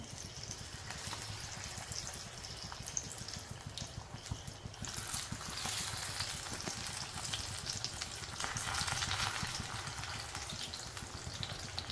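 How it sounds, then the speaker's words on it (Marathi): Taro leaf rolls (alu vadi) frying in hot oil in a pan, a continuous crackling sizzle that swells louder in bursts, with no talking. "आळूवड्या आता टाकूया पॅन मध्ये. तेल असं छान तापलंय."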